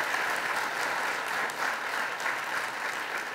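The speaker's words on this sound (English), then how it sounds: "Let's give them all a round of applause for the extraordinary work that they've put in." Audience applause after a lecture on the prosecutor's role, an even, steady wash of clapping from a seated crowd, moderately loud and unbroken throughout.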